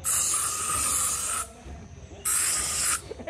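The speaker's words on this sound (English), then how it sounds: "Sometimes you just spray." Two bursts of aerosol spray hiss loudly in the Amazon jungle, each lasting over a second, separated by a brief pause with faint background noise.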